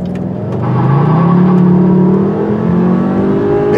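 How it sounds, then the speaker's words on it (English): A 2016 Volkswagen Beetle Convertible R-Line with a 210 hp turbo engine accelerates hard, its engine note rising steadily in pitch through a gear, loud and close with no voices. "this 210 horsepower turbo engine has more than enough power"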